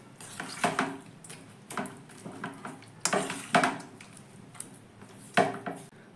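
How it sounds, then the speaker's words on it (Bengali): Semolina being stirred with half a bowl of water in a bowl, for a quick potato-and-semolina snack: close, irregular scraping and clinking strokes that repeat in uneven bursts, with no talking. "এবার আবারও ভালো করে আমি সুজির সঙ্গে মিশিয়ে নেব।"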